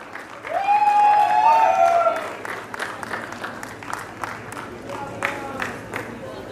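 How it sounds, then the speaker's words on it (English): A crowd applauds steadily at a prize distribution ceremony, the clapping swelling early then thinning into scattered claps, with voices calling out over it. "Can we please have clapping?"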